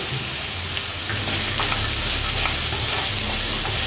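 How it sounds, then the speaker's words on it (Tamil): Peas, beans and carrots sauté in hot oil with onion for semiya kichadi, a steady close sizzle and crackle with soft stirring scrapes throughout. "காயெல்லாம் போட்டதுக்கப்புறம் ஒரு 2 நிமிஷம் நல்லா வதக்கலாம்."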